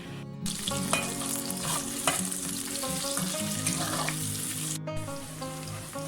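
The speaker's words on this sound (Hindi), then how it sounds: "इसमें हम लोगों ने सबसे पहले प्याज डाला है और अब इस प्याज को हम लोगों ने ब्राउन होने तक अच्छी तरह से हिलाना है" Onions fry and are stirred in a pan for qeema pulao, a steady, close sizzle with scraping stir strokes throughout and a couple of brief breaks.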